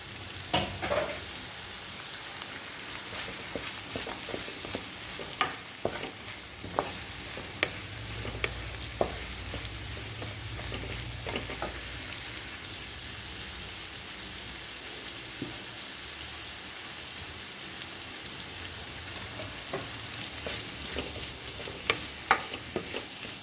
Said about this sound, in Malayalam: അതുപോലെ നമ്മുടെ ക്യാപ്സിക്കം, ഇതും കൂടെ ഒന്ന് നല്ല പോലെ ഒന്ന് വഴന്ന് വരട്ടെ. ഹൈ ഫ്ലെയിമിലാണ് വെക്കണേ.